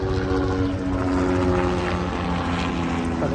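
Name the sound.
helicopter flying overhead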